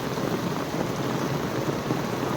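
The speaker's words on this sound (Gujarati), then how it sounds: "વરસાદ માવઠાનો આવો છે" Unseasonal rain pours steadily outdoors, water running along a path, forming a dense, even hiss of drops that stays loud and unbroken with no voices.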